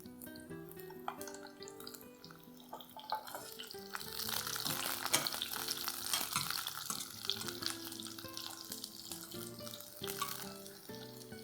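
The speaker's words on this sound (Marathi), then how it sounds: "तर आपण हे थोडी तळून घेऊया." Pieces of purple eggplant fry in oil in a hot kadai, a bubbling sizzle that swells after a few seconds into a dense, steady crackle with occasional clinks, moderately close.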